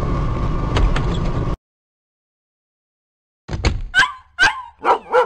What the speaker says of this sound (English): That's shadow barking.